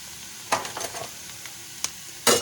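Garlic frying in hot oil on an electric stove, a low steady sizzle with a few louder bursts of stirring, close and without talk.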